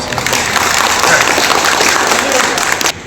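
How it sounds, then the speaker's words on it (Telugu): Audience applause at a ceremony where recovered mobile phones are returned to their owners, a steady crowd clapping for about three seconds with some voices mixed in, then cutting off abruptly near the end. "దయచేసి అందరూ వాళ్ళకి ఒకసారి చప్పట్లు కూడా"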